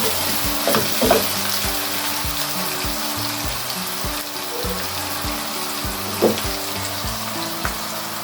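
Lauki keema frying in a pan, a steady loud sizzle with a regular rhythm of stirring scrapes and occasional clinks of the spoon throughout.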